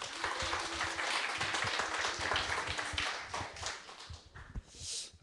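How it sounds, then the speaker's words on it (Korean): An audience at a church lecture applauds to welcome a speaker, steady dense clapping that carries on for several seconds before thinning out near the end. "박수로 모시겠습니다"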